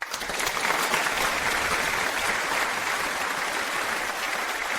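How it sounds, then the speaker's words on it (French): Steady, dense applause from a banquet audience fills the whole stretch at an even, fairly loud level, with no pauses and only faint traces of voices beneath it. "Maintenant, sous vos applaudissements, nous accueillons le Vieux Shen sur scène."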